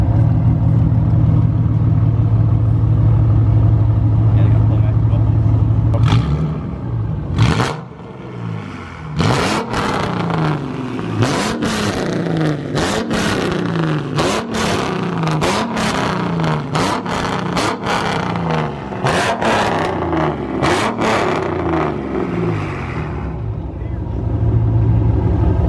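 Ford Mustang 4.0 V6 with a catless exhaust and mufflers idles loudly nearby, then barks through a long run of sharp, repeated revs that rise and fall before it settles back to idle.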